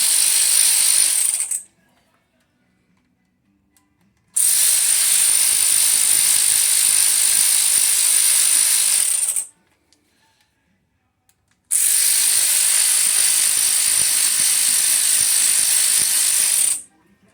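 Air ratchet or ratchet wrench breaking loose the bolts on a 5.3 LS engine during a camshaft install, three long loud buzzing bursts separated by short pauses, close by with no talk.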